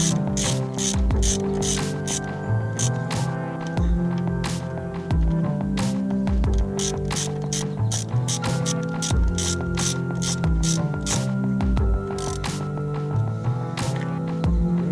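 A hand ratchet tightening door mirror bolts on a 1997-2001 Honda CR-V clicks in rapid continuous bursts, with a dense, close, rhythmic pawl chatter and small knocks throughout.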